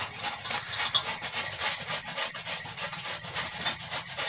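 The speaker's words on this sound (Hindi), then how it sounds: "इसको हम ऐसे कद्दूकस करते हैं।" Bottle gourd (lauki) is rubbed over a grater in quick, regular rasping strokes, a steady close scratchy rhythm with no talking.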